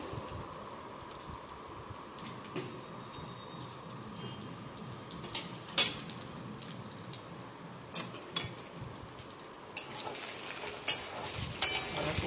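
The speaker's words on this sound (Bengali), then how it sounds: "বড়িগুলো একটু লাল লাল করে ভাজবো" Lentil dumplings (bori) frying in hot oil give a steady, fairly quiet sizzle with scattered sharp clicks and pops that grow busier toward the end. No one speaks.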